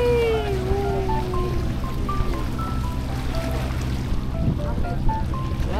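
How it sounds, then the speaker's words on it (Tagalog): Passenger boat ride on the lake toward Hallstatt, Austria, with a steady engine rumble and water wash under scattered distant voices and announcements. "Sasakay mo tayo ng ship."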